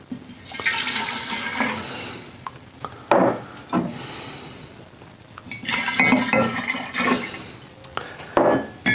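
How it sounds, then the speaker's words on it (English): Bourbon is poured from several jars into a glass mixing jar, producing splashing liquid and close clinks and scrapes of glass as jars are handled and set down, with no voices. "we're gonna add all these jars to our mixing jar"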